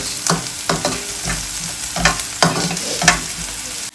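Onions browning in a pan for a lobster curry, sizzling steadily while a spoon scrapes and stirs in repeated strokes, close and fairly loud with no voices.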